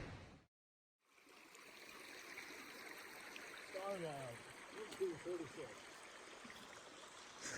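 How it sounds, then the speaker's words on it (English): Creek water flows in a steady, quiet rush along the Pacific Crest Trail, with a brief silent gap near the start and a few soft splashy swells later on. "Beautiful creek was encountered."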